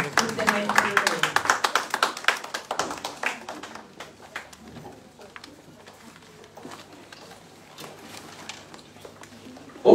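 A church congregation claps its hands in worship. Rapid, steady clapping is loud and dense at first, then thins into sparser, quieter claps, with speech and singing over it.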